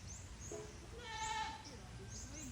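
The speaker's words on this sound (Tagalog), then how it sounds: "Ang mga bagong panganak na kambing, karon pa ng buntag anak." Newborn twin goat kids, born that morning on a farm, give several thin, high bleats spread through the moment, fairly faint and close, over quiet background murmur.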